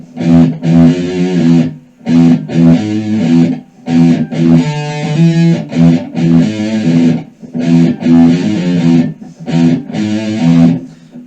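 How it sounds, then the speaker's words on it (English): A down-tuned eight-string electric guitar plays chugging distorted riffs in repeated bursts separated by short rests, loud and close with no voices. "Yeah, so you can do low stuff on these guitars"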